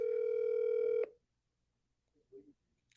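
A cell phone emits a steady dialing tone lasting about a second, loud and alone, then cuts off into near silence with a faint brief sound near the end.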